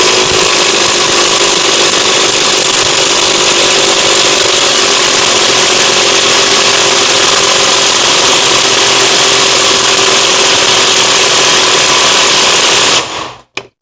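Kamolee DTW500 cordless impact wrench running at maximum speed, a loud, continuous high whine with a hard hammering buzz, held steadily for about thirteen seconds before it cuts off abruptly.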